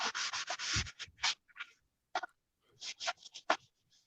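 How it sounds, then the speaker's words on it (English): Wood sanded by hand with a Klingspor soft foam sanding pad on CNC-cut detail: close, raspy rubbing strokes in quick bursts, then a short pause and another run of strokes. "You know what other products I really like is Klingspor, soft sanding spongy thing."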